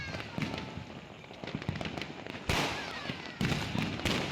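Diwali fireworks and rocket firecrackers bursting over a crackling background, with several sharp loud bangs standing out, some near and some farther off.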